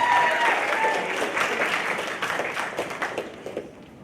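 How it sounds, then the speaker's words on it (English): Students in a school audience applaud a speaker at a soapbox speech event, a full burst of clapping that starts strong and gradually thins out into scattered claps as it fades. "Let's give a warm round of applause for him and full attention, please."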